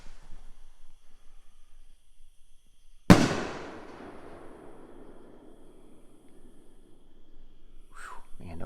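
A large firework rocket bursts with one sudden loud bang that decays into a long crackling rumble, after quiet outdoor ambience, with a brief voice near the end.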